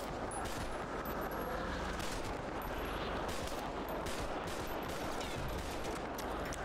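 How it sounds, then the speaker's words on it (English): Dense, loud gunfire in a police video game, rapid overlapping shots sounding like a sustained fusillade or machine-gun bursts, continuous throughout with no clear gaps. "I might have shot him a couple more times"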